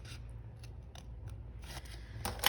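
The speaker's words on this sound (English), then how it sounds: "I'm gonna cut these. Freehand with my scissors." Scissors cutting paper freehand: quiet, close snipping with several short crisp cuts in an irregular rhythm over a low background hum, growing slightly louder toward the end.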